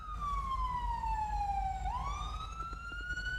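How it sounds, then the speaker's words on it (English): A police car siren in the GTA video game wails with a long falling sweep that bends and climbs again, steady and clear over a low background hum. "Can we get the sirens turned off on the scene?"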